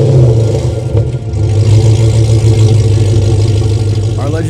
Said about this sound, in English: Our Legend Series exhaust is designed to create that signature growl